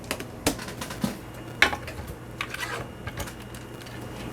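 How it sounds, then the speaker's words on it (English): Scissors snip the edges off a paper junk mail envelope in a few sharp, separate cuts, close and crisp over quiet rustling. "what I'm going to do is just snip off the edges of the envelope"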